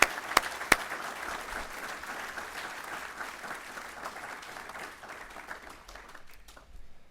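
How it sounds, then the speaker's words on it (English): Mourners at a memorial service for a man applaud steadily for several seconds, a moderately distant, even patter of clapping from the gathered audience with a couple of sharper claps near the start, fading slightly at the end. "can we just give my mom a round of applause for the last 2 years?"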